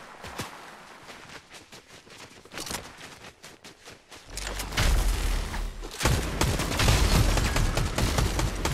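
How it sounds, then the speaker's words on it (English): Gunfire in the Fortnite video game: scattered distant shots early on, then a loud dense burst of rapid shots and booming impacts that keeps going to the end. "Oh, shots!"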